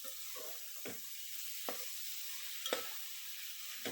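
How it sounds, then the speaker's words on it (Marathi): A spoon stirs yogurt into sizzling vegetable biryani masala in a pan, with three or four distinct scraping strokes over a steady soft fry hiss, close and fairly quiet, with no talking. "दही फाटू द्यायचं नाही आहे, एकसारखं हलवायचं आहे."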